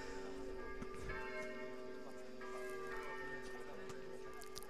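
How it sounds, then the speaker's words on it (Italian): Church bells ring festively from a church close to the Parco Pegaso bocce courts, a steady sustained peal of tones running throughout with faint background activity. "sembrano suonare a festa le campane della chiesa qui vicino al Parco Pegaso"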